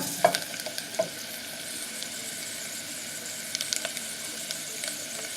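Potatoes frying on low heat in a skillet under a mismatched lid give off a soft, steady sizzle with a few sharp pops and crackles scattered through it, heard close with no talking.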